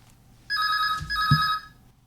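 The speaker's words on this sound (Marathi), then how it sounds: "फोन आहे" An electronic telephone rings in an Akola All India Radio studio, one clear trilling burst about a second long, close and prominent, with a soft knock partway through in an otherwise quiet room.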